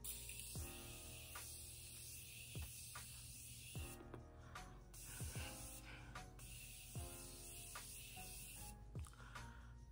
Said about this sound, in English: we're gonna take the setting spray by Morphe